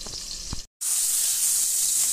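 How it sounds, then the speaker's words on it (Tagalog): Pork steak frying in a pan, a bright continuous sizzle that briefly cuts out and then returns louder and steadier, close and alone. "Prito muna natin mabuti."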